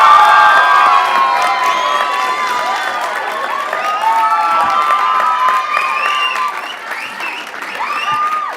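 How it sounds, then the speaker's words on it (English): Loud crowd cheering, whooping and applause fill a community volunteer awards evening, a dense sustained roar of many voices with shrill shouts rising above it throughout. "So I think we need to give an even bigger cheer for Taz."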